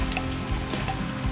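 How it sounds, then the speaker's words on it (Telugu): Onion-tomato puree goes into a masala of garlic paste frying for fish curry, producing a dense, close, continuous sizzle with faint stirring knocks. "ఆనియన్ టమాటో ప్యూరీ వేసుకుందాము."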